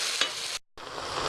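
Okra cooks with tomato paste in a pan with no added liquid while being stirred: a close, dense sizzle with a scraping stroke near the start, a brief full gap, then the frying resumes.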